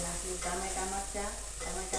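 Tomatoes and chilies fry in a spiced oil tempering for an Indian vegetable dish, a steady close sizzle broken by repeated rhythmic scrapes of a stirring spoon, with faint tonal sounds in the background.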